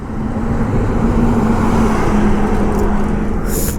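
A lorry passes on a highway during a motorcycle road trip, heard as a loud, steady roar of traffic noise that holds throughout, with a brief hiss near the end.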